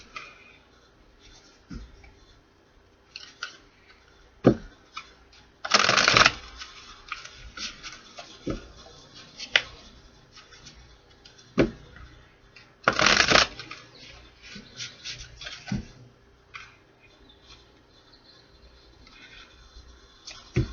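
A House of Cards tarot deck is shuffled by hand: soft riffling and card slaps come in short bursts, with two longer, louder shuffles among quiet taps and handling noises.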